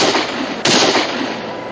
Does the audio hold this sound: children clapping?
no